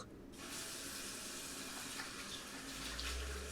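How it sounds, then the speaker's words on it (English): Water runs steadily into a bathroom sink with a continuous splashing rush, close and unbroken, with no voices. "In the bathroom, splashing water on my face."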